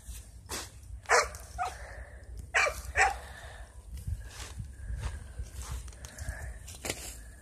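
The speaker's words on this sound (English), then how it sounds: "Look, Tyler, I zoomed in so they can see the dog." A dog barks in a handful of sharp, separated bursts at moderate distance outdoors, with whimpering yips in between over a low rumbling background; no one speaks.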